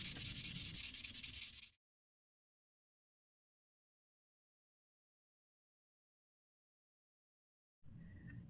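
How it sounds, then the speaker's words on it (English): Tamiya 600-grit sanding sponge rubbing over a resin 1/24 Toyota Supra GT-300 model car body, two close, loud bursts of dry scratchy scrubbing separated by several seconds of silence. "it is now time to sand the resin as smooth as possible, and for this job I am using a Tamiya number 600 sanding sponge"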